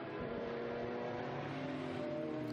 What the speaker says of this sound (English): Here's the Chevrolet Corvette.